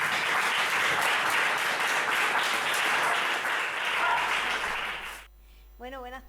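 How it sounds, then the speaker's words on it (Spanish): Audience applause at a poetry book presentation in an Ateneo hall, a dense sustained burst of many hands clapping that fades out, followed by a voice starting to speak. "un aplauso para ellos y muchas gracias."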